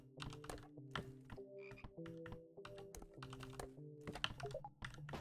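Frogs croaking in a speedrun video game, a steady layered chorus of tonal croaks with clicky rapid pulses over five seconds, no speech.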